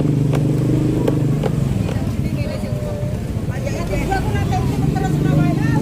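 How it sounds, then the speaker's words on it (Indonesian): A motorcycle idling and puttering as it is parked on a busy street during Lebaran preparations, with traffic noise and clatter around it and a few faint thumps. "Oke, kita parkirkan dulu motornya."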